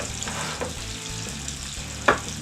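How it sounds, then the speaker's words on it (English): Dried chipped beef and butter sizzle steadily in a hot pan as the meat is pushed to one side, with a constant close frying hiss and one sharp scrape near the end. "we're going to kind of push all the meat off to one side"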